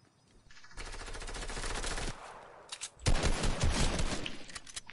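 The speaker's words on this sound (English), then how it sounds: "Shooting." Automatic gunfire in a shooter video game, with one sustained burst and then a louder, more ragged volley of close shots.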